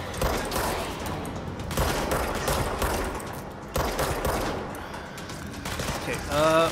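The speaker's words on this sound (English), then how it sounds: "Okay, getting shot at." Sustained bursts of rapid enemy gunfire in the video game Control, loud and continuous with brief gaps, a voice briefly audible near the end.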